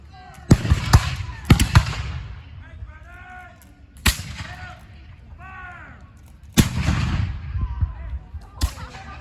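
Several sharp, booming blasts of cannon fire ring out at irregular intervals during a historical battle reenactment, with voices shouting between the shots.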